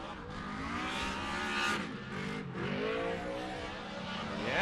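A Yokohama-shod Nissan 350Z drift car at a Formula D event in Texas wails through revving engine pitch swings and screeching tires, heard from a distance with crowd and track ambience.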